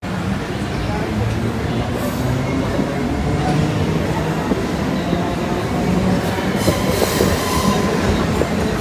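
Train rolling into Thirumayilai railway station in Chennai, with loud rail clatter and wheel noise that hold steady throughout, plus a few squealing accents near the end.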